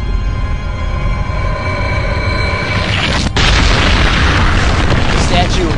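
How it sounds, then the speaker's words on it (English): A giant statue implodes in the video game Shadow of the Colossus: a loud crumbling rumble with a sudden heavy boom midway, followed by sustained roaring debris noise. "The statue imploded!"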